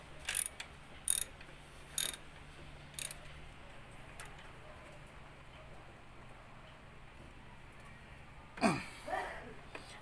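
Wrench tightening the alternator bracket bolt on a Mitsubishi Mirage during a serpentine belt replacement: a few sharp ratchet clicks in quick bursts early on, then a louder scrape and clunk near the end over a low steady hum.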